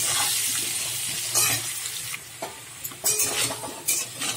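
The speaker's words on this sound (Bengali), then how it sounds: "দিয়ে আলুটা নুন হলুদ দিয়ে একটু ভেজে নেবো।" Potato pieces with salt and turmeric fry in a pan with a steady sizzle, while a utensil scrapes and stirs now and then, with sharper clinks near the end; no voices.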